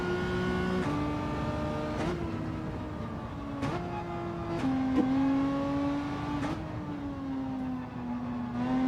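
A Renault Megane race car in Gran Turismo 7 revs hard through repeated upshifts, its engine pitch climbing and dropping back at each gear change, steady and prominent throughout.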